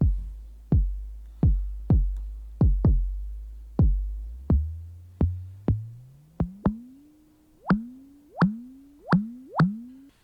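Eurorack synth kick drum hits in a steady repeating pattern whose pitch sweeps upward while the envelope reverses, attacks growing slower and releases shorter, the thuds turning into rising swelling blips; loud and alone, with no voices.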